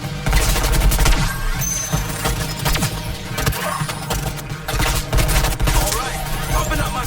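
Dense, continuous rapid gunfire from Deadshot in the Suicide Squad: Kill the Justice League game, loud and sustained with a voice faintly underneath.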